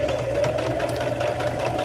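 A home sewing machine stitching cut fabric squares, running in a steady continuous mechanical whir with a constant hum and rapid needle rhythm, close and fairly loud, with no talking.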